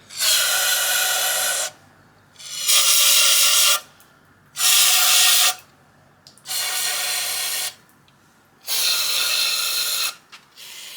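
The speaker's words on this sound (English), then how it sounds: "make sure you blow all of these oil passages out" Compressed air blasting through the oil passages of a Mazda Miata engine block being built for turbo use, five long loud hissing bursts of about two seconds each separated by short quiet gaps, close up with no talking.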